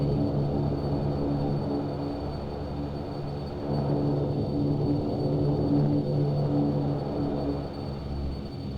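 Steady droning whine and low rumble of a Q400 turboprop taxiing to the gate in a flight simulator game, continuous and even throughout with no talking.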